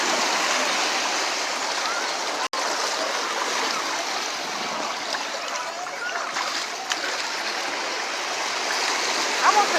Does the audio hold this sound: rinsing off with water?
yes